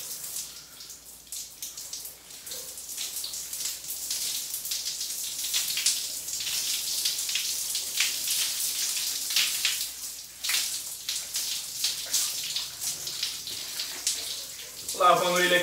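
Running water splashes steadily in a bathroom while hair is rinsed after a hydrating treatment, a continuous broadband spray that stays fairly loud throughout, with denser splashing near the end.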